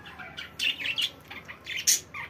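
Parrots and pigeons in a zoo bird enclosure call in short, bright chirps and squawks, several quick bursts in irregular succession at moderate distance, with no voices over them.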